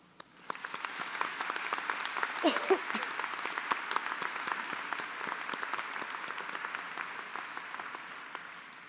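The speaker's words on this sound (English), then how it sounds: "they deserve an erupting round of applause" A college commencement audience bursts into sustained applause, many hands clapping in a dense, steady patter that carries on for several seconds.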